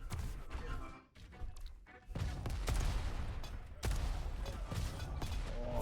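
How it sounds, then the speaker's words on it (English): Grenades and rockets exploding in a Diabotical duel match, a dense run of booms and gunfire-like bursts with brief dips, loud and close throughout. "the grenades and the rockets right through the TP"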